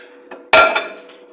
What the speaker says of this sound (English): Then I put a plate on top.